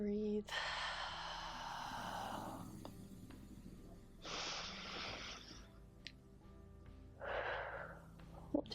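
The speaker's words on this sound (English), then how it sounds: "And breathe." Three slow, deep breaths during a gentle yoga flow for stress relief, each a long breathy exhale close to the microphone, separated by quiet pauses.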